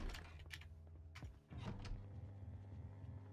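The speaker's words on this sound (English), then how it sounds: "I think I might close my door, actually." A door closing in the Project Zomboid survival video game, a creaking mechanical swing with a couple of sharp clunks over a steady low in-game hum, quiet and close.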